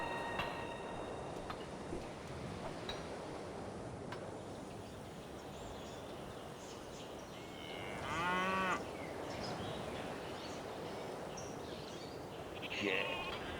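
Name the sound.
sheep sound in Civilization V video game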